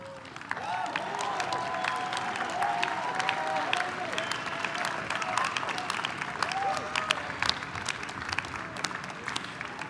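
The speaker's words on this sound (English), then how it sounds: "give this dedicated group a round of applause" A commencement crowd standing to applaud faculty and staff, sustained clapping from a large audience with scattered cheers and murmuring voices mixed in, steady throughout.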